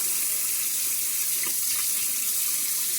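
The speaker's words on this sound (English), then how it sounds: "I need you to wash your hands" A kitchen tap runs steadily while hands are washed beneath it, a loud continuous hiss of water with slight splashing changes as the flow is interrupted.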